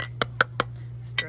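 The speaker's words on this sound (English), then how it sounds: "Stir the sugar up." A spoon stirs sugar into a milky latte, clinking against the cup in four or five quick, bright, evenly spaced taps, close and fairly loud over a low steady hum.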